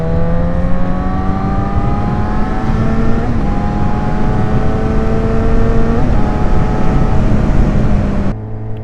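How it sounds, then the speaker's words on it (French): Motorcycle on a ride away from the beach, the engine loud and close with strong wind noise, climbing in pitch through successive gear shifts before easing off at the end. "Bon, il faut accélérer en fait."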